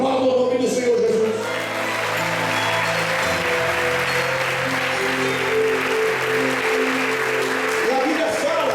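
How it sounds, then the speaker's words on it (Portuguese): A congregation in a Portuguese-language church service claps steadily for several seconds, moderately loud, mixed with sustained musical tones and voices in the background. "Aplauda o nome do Senhor Jesus."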